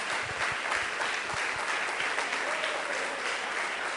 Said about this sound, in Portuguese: pode aplaudir a Jesus agora